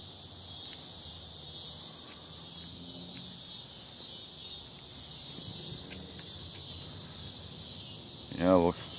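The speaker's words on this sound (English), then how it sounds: "Here are the bugs in the woods." Insects chirp steadily in the woods after sunset, a continuous high trill with faint rustles and a brief squeak near the end, heard alone at moderate distance.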